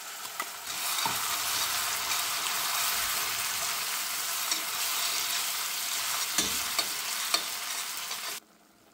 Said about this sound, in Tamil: எல்லாத்தையுமே நல்லா ரா ஸ்மெல் போகிற வரைக்கும் வதக்கிக்கோங்க